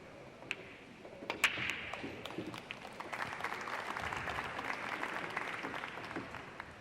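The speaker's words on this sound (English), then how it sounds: "the applause you heard was Parika just winning his first game down there" Audience applause at a pool tournament, the Turning Stone Classic, swelling from about a second and a half and holding as a steady, moderately distant wash of clapping in a quiet hall, with a few sharp ball clicks nearby.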